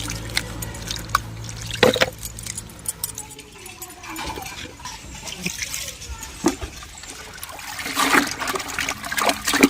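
Radish is washed by hand in a bucket of water. Irregular splashes and dribbles come close by, with sharp clinks and sloshing bursts scattered through.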